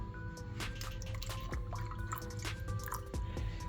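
Cold brew coffee from a Presto Dorothy rapid cold brew maker poured into a glass holding an ice cube, a quiet, soft trickle with small drips and splashes.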